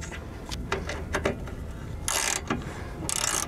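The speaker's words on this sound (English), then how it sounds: "now all I'm doing is going back and replacing bolts from the back we took off earlier" Bolts being refitted on a receiver hitch under a 2017 Ram ProMaster van, heard as quiet, close clicking ratchet and mechanical turning sounds, with two louder, harsher bursts near the end and no talking.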